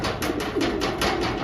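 Racing pigeons in a loft, an old-bird and derby racing setup, cooing softly and repeatedly at close range over a steady background hum, with a few low throaty calls rising and falling.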